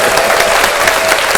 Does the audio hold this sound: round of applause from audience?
yes